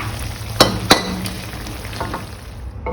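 Fish stir-frying with red curry paste in a pan, a steady sizzle under a couple of sharp scraping clicks as the food is turned, close and loud with no talking.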